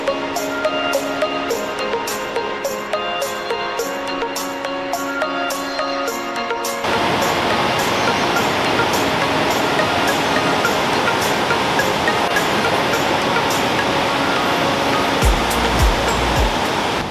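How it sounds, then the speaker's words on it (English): Lower Wallace Falls in Wallace Falls State Park pours down in a loud, steady, broadband rushing roar that takes over after a few seconds of tonal, music-like sound. "But now we're at Lower Wallace Falls."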